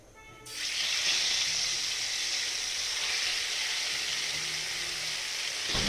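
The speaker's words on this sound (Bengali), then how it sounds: "ভালো করে লাল রঙের করে মাছগুলো ভেজে নিতে হবে।" Tilapia drop into hot oil in a wok and burst into a steady bright hiss that starts abruptly after a quiet moment and holds evenly at moderate volume.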